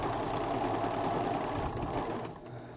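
A home sewing machine runs steadily, stitching fabric for corner suck pads with a ruffle, its rapid mechanical hum continuous and close before easing off near the end.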